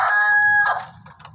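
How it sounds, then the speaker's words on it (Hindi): A rooster crows once, a loud, close, drawn-out call that trails off, with soft low clucking underneath. "देखें जी माशाल्लाह मुर्गे अजान पे अजान दिए जा रहे हैं।"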